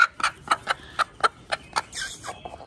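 A hen clucking close by, a regular series of about nine short, sharp clucks at an even pace, then a brief squawk near the end.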